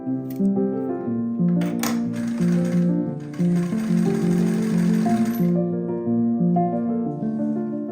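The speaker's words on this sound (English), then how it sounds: "And then we are machine stitching it to that seam allowance." A sewing machine stitches underwire casing onto the cup seam allowance of a lacy strapless bra, its motor buzzing and ticking in short runs while soft music plays underneath.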